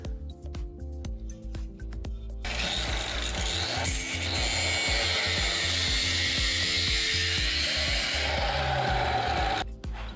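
A power tool cuts a piece of angle iron for a gas tank bracket on a Predator 212/224 engine, a steady harsh grinding roar lasting about seven seconds after a quieter start, close up over a faint tonal background.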